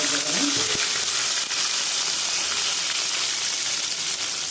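Mustard seeds and chillies sizzling in hot oil, a bright, steady hiss close by, with a brief clink of a utensil near the start and no speech.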